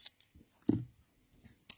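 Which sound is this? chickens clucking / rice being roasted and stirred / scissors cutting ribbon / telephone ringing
scissors cutting ribbon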